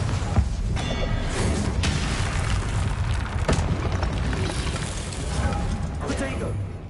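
A fiery Confringo spell blast in a Harry Potter video game, a booming burst within continuous loud game noise, with a voice talking over it.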